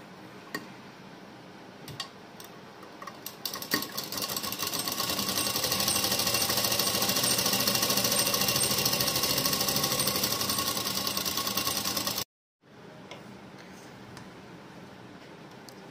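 Sewing machine stitching a blouse neckline and lining, starting with a few scattered clicks, then running as one long loud steady whir for about eight seconds before stopping abruptly, followed by quieter background.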